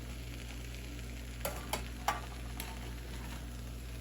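Fried rice ingredients with lemon juice stirred in a hot pan: a steady soft sizzle and hiss, broken by a few sharp scraping clicks of the utensil against the pan.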